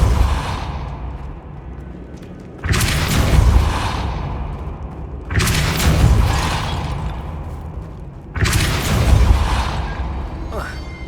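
A Depulso spell cast in Hogwarts Legacy lands three times as a loud booming burst with a whooshing blast, each hit evenly spaced and decaying over a couple of seconds against a steady low game rumble.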